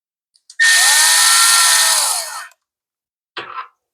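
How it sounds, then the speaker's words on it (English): Power driver sinking a screw into an Echo blower carburetor, a loud close whine for about two seconds, then a second brief burst after a silent pause. "Let's throw a couple of screws in."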